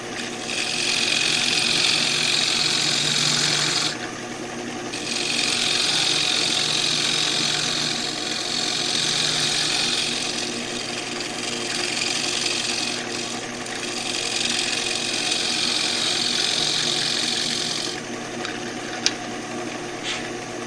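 A wood lathe spins a column of cherry while a spindle gouge cuts it, a continuous close rasping hiss over a low motor hum that pauses briefly twice and ends with a small knock.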